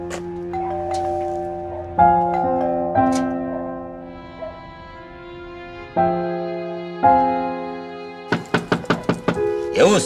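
Knocking on an apartment door, several separate thudding knocks spaced across the scene over quiet background music, ending in a fast burst of sharp raps.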